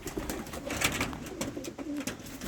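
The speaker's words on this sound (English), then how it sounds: "That's my birds that came back from the race" Young racing pigeons back from a race cooing inside their loft, soft repeated coos over rustling and flutter, fairly quiet and close.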